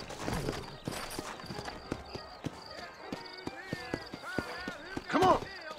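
Horse hooves clip-clop at a steady walking pace in Red Dead Redemption on Xbox 360, close and distinct, with character dialogue over the hoofbeats.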